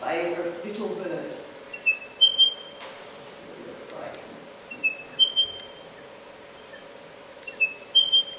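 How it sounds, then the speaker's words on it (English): A spotted pardalote calls at Sydney Olympic Park, with short thin high whistled notes repeating in small spaced bursts over a quiet background, fairly faint and clear. "The spotted Pardalote."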